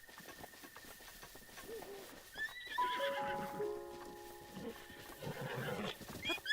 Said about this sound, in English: Caught a horse by default.